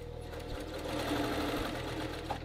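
Sewing machine stitching a flat felled seam on a men's dress shirt, a steady close whirring run that continues without pause, with only a couple of brief dips in speed and no talk.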